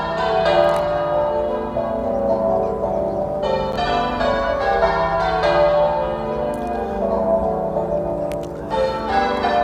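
Church bells rung by bell ringers pealing continuously in Warminster, a dense overlapping rhythm of strikes carrying through the town, loud and sustained throughout with no talk.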